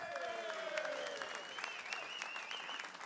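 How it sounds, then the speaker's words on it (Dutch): An audience at a carnival champions' season-opening event applauds steadily for about three seconds, a dense wash of clapping with a few high whistle-like tones riding over it. "een groot applaus"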